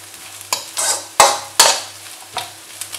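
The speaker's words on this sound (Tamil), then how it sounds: "இப்போ வந்து இதில் கேப்சிகம், சாரி கேபேஜ், கேரட் எல்லாம் போட்டுக்கலாம். நல்லா ஃப்ரை ஆகணும்." Capsicum, cabbage and carrot stir-fry in a wok for roadside chicken fried rice, sharp metallic spatula scrapes and tosses in irregular bursts over a sizzling bed with a low hum, close and loud, no speech.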